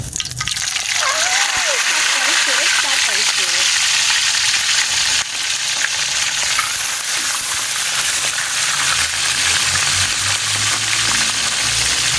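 Galunggong fish fry in hot oil in a pan, a loud, continuous, close sizzle and crackle throughout, with a voice speaking faintly beneath the noise.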